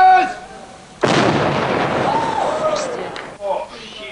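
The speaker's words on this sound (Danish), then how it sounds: "valgte at destruere det sprængstof, politiet havde fundet på mandens klubværelse i Silkeborg" Army engineer demolition experts detonate homemade acetone peroxide explosives seized from a club room in Silkeborg: one loud, sudden blast that rolls on for a couple of seconds, with voices heard before it.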